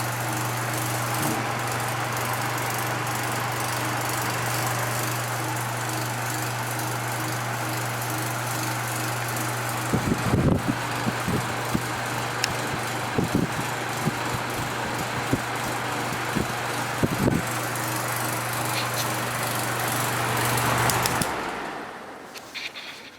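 A Patton U2-1272 fan fitted with a new motor runs steadily with a constant hum, loose nuts adding intermittent rattles and clicks before it shuts off and spins down near the end.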